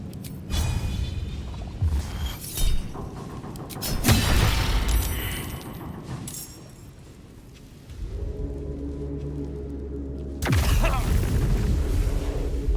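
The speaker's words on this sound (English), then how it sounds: "Oh, these things explode too?" Explosions in Baldur's Gate 3 during the Iron Throne rescue: a deep boom around the middle and a second sudden burst near the end, loud and close, between stretches of game ambience.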